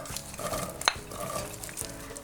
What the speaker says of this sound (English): we're just going to sweat these off so they're nice and cooked down and soft